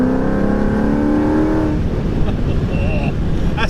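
Ford Mustang with a Corsa performance exhaust roars loudly at close range, a strong rev that fades into a rough rumble with a faint whine.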